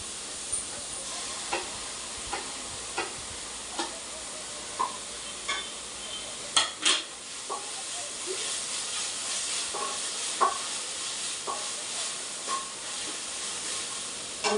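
Ginger garlic paste frying in oil for chicken fried rice, with a steady bright hiss and sizzle and regular spatula stirs and taps close by.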